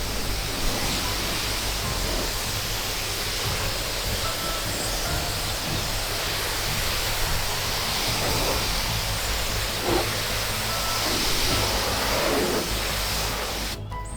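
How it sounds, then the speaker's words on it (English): Steady broadband hiss of water from a wide fan nozzle on a garden hose rinsing a black limestone step, continuous and fairly close, with no voices. "So I'm just going to give this black limestone step a rinse off. Nice wide fan nozzle,"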